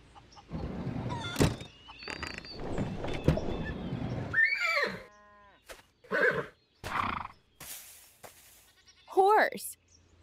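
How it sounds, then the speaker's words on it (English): A horse whinnies with a high, wavering neigh in a cartoon video game, repeated among thumps and clatter, with a final loud whinny near the end. "Horse."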